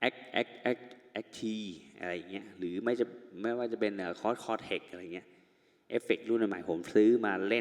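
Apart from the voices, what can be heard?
None of the usual background noises is heard.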